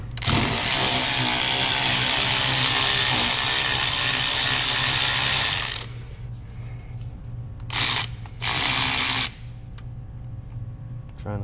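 A power tool spins off 14mm nuts from the brake master cylinder during a 6.7 Powerstroke hydroboost install, a loud whirring run of about six seconds followed by two short bursts, with no voices.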